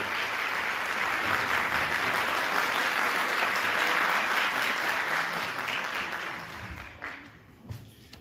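Loud, sustained audience applause fills a hall as an orchestra conductor, a school music teacher, is welcomed onto the stage at a poetry evening. The clapping stays dense and steady before thinning out and fading near the end.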